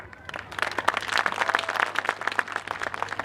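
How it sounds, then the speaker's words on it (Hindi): A school audience gives loud applause in honour of Major Somnath Sharma. Many hands clap in a dense, uneven patter that builds and holds at moderate loudness over a low steady hum. "एक बार उनके सम्मान में जोरदार ताली"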